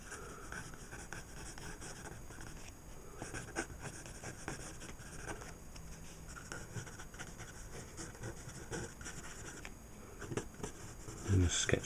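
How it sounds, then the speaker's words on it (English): A pencil sketches quickly on paper with soft, intermittent scratching strokes, faint and close, while a person talks throughout. "I'm just sketching real quick"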